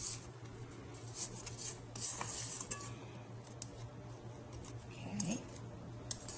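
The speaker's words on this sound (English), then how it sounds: "we'll just scrape down the bowl" A spatula scraping down a mixing bowl of chocolate chip cookie dough with flour just added, giving light scratchy scrapes and clinks at a quiet level, spaced irregularly over a faint steady kitchen hum.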